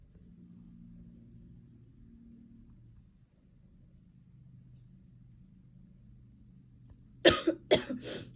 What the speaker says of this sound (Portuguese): Não consegui segurar essa tosse